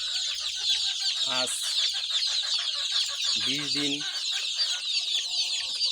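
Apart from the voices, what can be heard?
Egyptian Fayoumi and local chicks clucking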